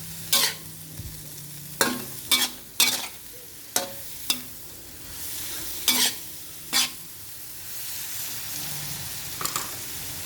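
Khajon flowers and shoots being stir-fried in a pan for a pork and egg dish, with a spatula clattering and scraping in irregular sharp strikes over a soft, steady sizzle.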